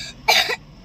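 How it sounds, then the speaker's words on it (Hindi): A single short cough bursts out close by, with a faint lead-in breath, then quiet background; no talking. "खांसी हो रही है।"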